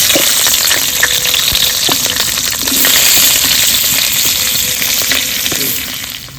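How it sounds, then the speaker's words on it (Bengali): Capsicum fries in hot oil in a home kitchen, with a loud, close, continuous sizzle and crackle and repeated clinks and scrapes of a spatula stirring against the pan. "তো ক্যাপসিকামটা প্রথম ভেজে নেব"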